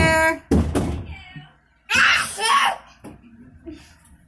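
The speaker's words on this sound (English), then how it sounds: "No, do not bang on my doors." A couple of sharp bangs on a door from a child, followed by loud shouting and children's voices over the banging, close and indoors.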